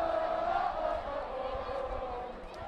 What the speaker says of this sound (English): Crowd gets into it once again.